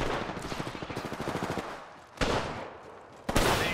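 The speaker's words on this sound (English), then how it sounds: "Being shot at." Gunfire in Apex Legends: a rapid burst of automatic fire for over a second, then a pause and two heavier, louder blasts, each trailing into noisy reverberation.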